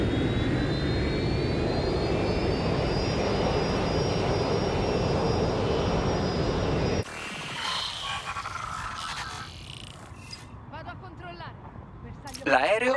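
Steady roar of a jet airplane engine with a rising whine in Watch Dogs: Legion, cutting abruptly to quieter game sounds and voices.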